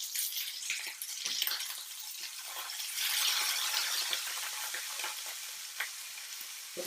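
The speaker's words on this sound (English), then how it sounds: "your pan's nice and hot and ready, time to cook some chicken" Chicken pieces sizzling and spitting in a hot pan, a steady crackling fry with bursts of popping, loud and close, with no voices.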